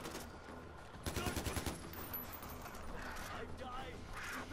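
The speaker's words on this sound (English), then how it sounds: "Someone's shooting." Burst of rapid gunfire from the video game Far Cry 4, a loud run of close shots in the middle, then fainter shooting and game noise beneath a talking voice.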